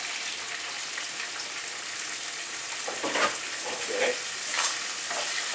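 Tomato dropped into hot golden oil for a rigatoni dish, a constant loud sizzle and crackle with bursts of spattering as the pieces hit, one brief spoken word over it.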